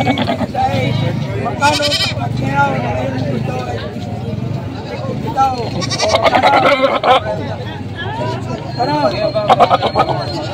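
Goats bleat intermittently over a busy crowd babble at a goat market in Padre Garcia, Batangas, with people talking throughout and occasional louder calls near the end.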